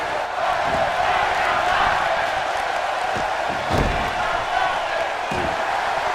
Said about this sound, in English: Hear the crowd of MSG behind Tyler Breeze